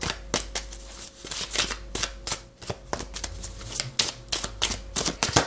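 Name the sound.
tarot cards being shuffled and drawn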